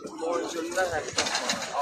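At the Sabunchu pigeon market in Azerbaijan, pigeons coo softly in low, wavering calls while someone speaks over them and bustle from the market fills the background.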